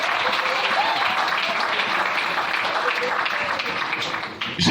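A church congregation applauds in praise of the Lord, producing a sustained, dense wash of clapping heard close and loud for the full stretch, with a brief dip near the end.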